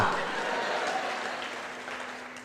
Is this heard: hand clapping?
yes